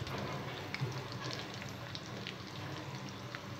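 Dried red chilies, garlic and seasoning seeds fry in hot tempering oil in a pan for a ridge gourd chutney, a soft, steady low sizzle with faint scattered crackles and no talking.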